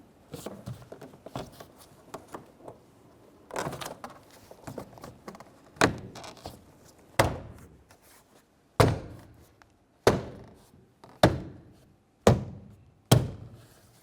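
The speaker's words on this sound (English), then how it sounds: "we'll start pressing the rest of this onto the door itself" Interior door panel on a 2012-2018 Nissan Altima left rear door being pressed into place, giving a run of sharp plastic thunks and snaps, a few soft at first, then louder, evenly spaced clicks as clips seat, with no talking.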